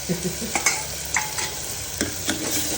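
Masala frying in oil for sev usal, a close crackling sizzle with repeated clinks and scrapes of a spoon stirring in the pan.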